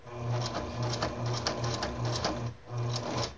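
A sewing machine runs in short bursts while stitching a pair of shorts into a skirt, with quick pauses between runs and a back-and-forth pass to lock the stitch, close and steady.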